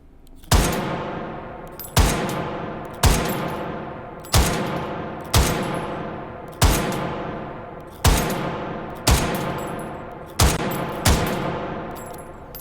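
Ten loud, evenly spaced rifle shots from an AG42B, a Swedish WW2 semi-automatic battle rifle, in the VR shooting game H3VR, each a sharp crack with a decaying ringing tail, about one per second with no talking.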